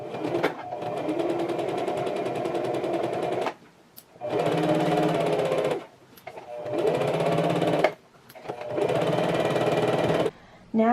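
A sewing machine runs a regular straight stitch on dress fabric in four steady bursts of rapid, even needle chatter, separated by short pauses, close and clear.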